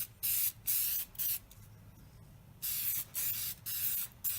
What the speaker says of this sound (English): we're going to coat it with the air filter oil. Just a light mist over it.